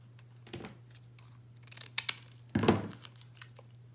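Scissors snip paper for a snowman gift box scarf: a few quiet, separate cuts and rustles over a low steady hum, with the strongest snip near the end.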